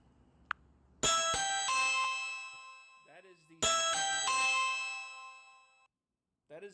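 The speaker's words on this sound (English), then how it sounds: "that is the standard ring that Ring uses for their doorbells." Ring video doorbell sounding its standard chime tone twice, each a bright ringing multi-note chime that rings out and decays slowly, with short gaps of near-silence and a faint voice between.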